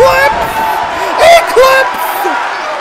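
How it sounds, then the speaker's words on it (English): A WWE 2K arena crowd roars and cheers during an NXT women's match, a steady loud swell of noise that rises in bursts beneath an excited commentator talking over it. "The crowd's lighting up!"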